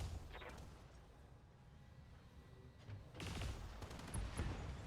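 An AC-5 autocannon on a mech in a combat game fires in bursts of heavy, booming shots, quieter through the middle and louder and denser toward the end.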